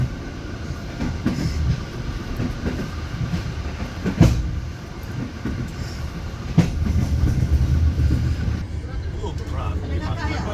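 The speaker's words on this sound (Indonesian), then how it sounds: "Mendekati stasiun Kertapati Palembang, kereta mulai menurunkan kecepatannya." Passenger train KA Rajabasa rolls toward Kertapati station in Palembang, a continuous rumble and rhythmic clatter of wheels on rails heard from inside as it slows, with a couple of louder knocks and people talking over it.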